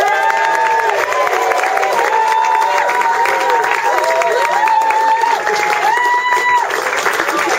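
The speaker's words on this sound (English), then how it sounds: "Ladies and gents, big round of applause please for your groom," Wedding guests applaud and cheer for the groom at a reception, a loud, steady wash of clapping with whoops and shouts over it, lasting throughout.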